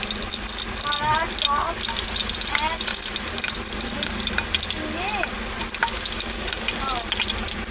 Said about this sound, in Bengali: আমি এর মধ্যে এখন গোটা গরম মশলা ফোড়ন দিয়ে দেবো